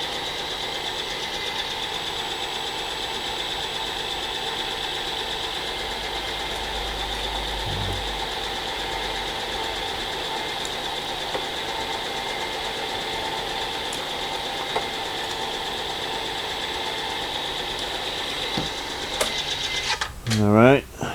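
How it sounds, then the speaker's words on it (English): A Bridgeport belt-drive J-head milling machine running at its slow 80 RPM speed, a steady loud mechanical hum and whir throughout, with a brief low thump partway and a swelling sweep of motor noise at the very end. "That's the slow speed on a Bridgeport belt drive J head."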